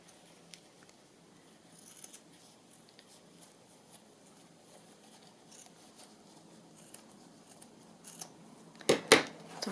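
Scissors cut paper for an accordion journal, with quiet faint rustling that builds to a few sharp, close snips near the end.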